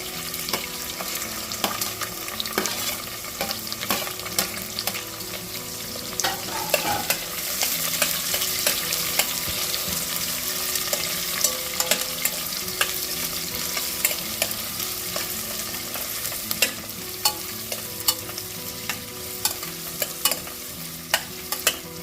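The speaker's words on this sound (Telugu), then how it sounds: "ఇవి కాస్త ఫ్రై అయ్యాక ఆనియన్స్ వేసేసుకోండి ఇందులో." Onions frying in hot oil for a spicy country chicken curry with curd, coconut and tomato, a steady close sizzle broken by frequent scraping stirs of a spoon in the pan throughout.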